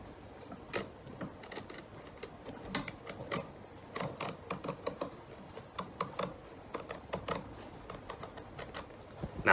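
Leather shoe sole stitching being sliced with a knife during a George Cleverley shoe resole, giving repeated sharp clicking cuts in an irregular, fairly close rhythm with no talk.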